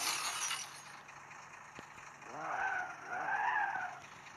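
Tires skid and squeal in a car crash simulator video game, two rising-and-falling screeches following a sharp knock, moderately loud over a faint background hum.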